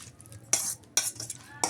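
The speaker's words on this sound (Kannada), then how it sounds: "ಪನ್ನೀರನ್ನ ಸೇರಿಸ್ಕೊಂಡು ಒಮ್ಮೆ ಚೆನ್ನಾಗಿ ಮಿಕ್ಸ್ ಮಾಡ್ಕೊಳ್ತಾ ಇದ್ದೀನಿ" A spoon stirs paneer cubes into masala in a pan, scraping in three short brisk bursts with a faint sizzle underneath.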